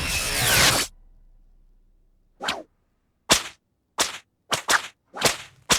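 A whip cracks repeatedly in the cartoon Johnny Test, a burst of noise followed by a series of sharp, loud, separate snaps at an irregular, quickening pace, with silence between them and no speech.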